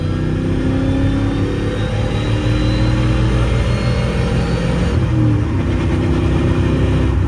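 An untuned 6.0 V8 in a Chevy Silverado pulls hard in second gear, its engine note a steady, loud, droning rumble that holds close and continuous with no talk.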